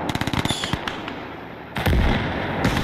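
A field gun fires in Gates of Hell: Ostfront, a loud blast followed by rapid crackling bursts and distant gunfire echoing across the battlefield.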